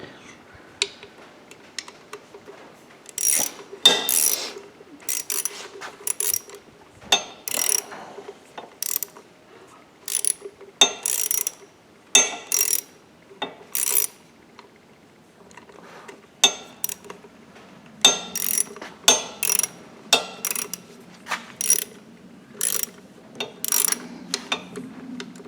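A hand ratchet tightens the chain guard bolts on a Tao Tao four-wheeler during a repair, clicking in short, repeated bursts with pauses between them, close and fairly loud.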